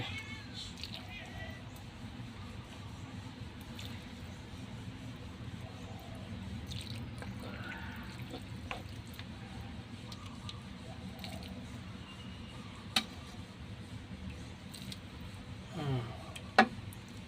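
Boiled noodle soup broth, for homemade Thai waterfall noodles, is ladled into a bowl, giving faint drips and soft splashes over a steady low background hum.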